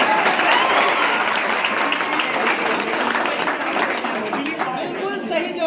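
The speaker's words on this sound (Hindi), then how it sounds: "जोरदार ताली बजा सकते हैं।" Loud sustained applause from the audience at a school science and math club quiz competition, dense steady clapping from a packed room that fades slightly toward the end.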